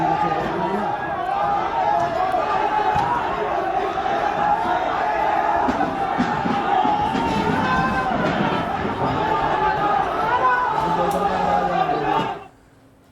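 A large crowd of stone-throwers near the Faiz-e-Ilahi mosque at Turkman Gate in Delhi shouts and chants continuously during a nighttime riot, a loud, dense roar of voices that cuts off abruptly at the end.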